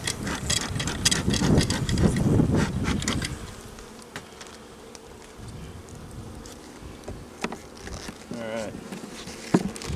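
Honeybees pouring out of a small hive, a close buzzing hum with loud rustling and knocking early on that settles into a quieter, steady drone with occasional sharp clicks.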